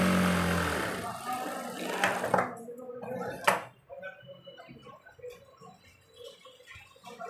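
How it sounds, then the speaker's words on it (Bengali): A sewing machine runs in a steady mechanical whir while stitching the folded cuff of a kameez sleeve, with a brief louder burst partway through. "তো প্রথমে কিন্তু আমি হাতার মোহরিটিকে কিন্তু সেলাই করে নিচ্ছি"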